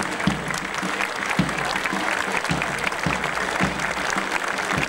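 A street crowd at a parade in Komotini gives steady, sustained applause to children from a special primary school as they march past, with soft rhythmic thuds beneath the clapping.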